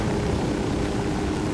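Helicopter rotor and engine drone from the video game Ghost Recon Wildlands, a steady, loud, continuous whir holding level throughout with no break and no speech over it.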